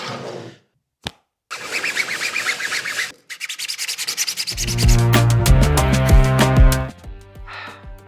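A cosplay prop for a Magik costume is sanded by hand, with a few seconds of rapid rhythmic rubbing strokes after a couple of brief knocks, followed by louder tonal, musical sounds.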